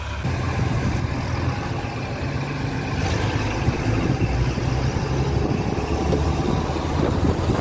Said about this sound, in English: That's the tractor coming behind us.